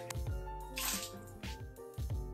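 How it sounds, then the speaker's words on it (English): Water runs and splashes into pet water bowls in a sink, with soft dripping and gurgling pulses over a quiet steady flow and no talk. "I'm gonna take both of their water bowls and go fill them up in the sink"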